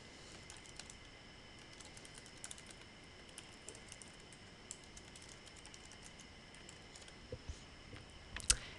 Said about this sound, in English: you type in the email and password that you used when you registered